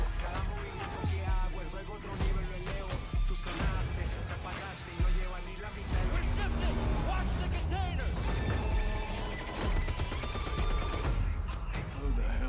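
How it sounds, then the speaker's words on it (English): Gunshots and weapon bursts from the Call of Duty Modern Warfare II reveal trailer for the video game, dense fire and crashing impacts cut in sync with a driving music score, loud and continuous throughout. "I've always liked how Call of Duty lines up the gunshots with the trailer."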